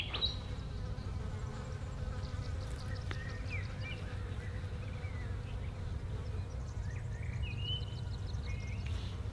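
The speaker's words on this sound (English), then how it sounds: "Oh, there's actually mosquitoes." Insects buzz steadily outdoors by a lake at Lakes Entrance, mosquitoes and flies droning close around the microphone over a low rumble, with faint higher chirps from birds or crickets in the distance.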